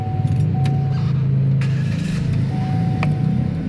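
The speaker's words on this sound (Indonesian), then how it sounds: "Coba kita sekarang nyalakan mobil." A 2013 Chevrolet Spin 1.5 LTZ automatic runs with a close, steady engine drone, broken by several sharp key clicks and rattles.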